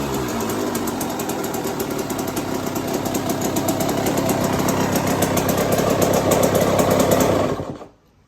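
A rebuilt 1996 Yamaha YZ125 two-stroke motorcycle engine runs close by, a loud raspy buzzing idle that builds slightly before shutting off abruptly near the end.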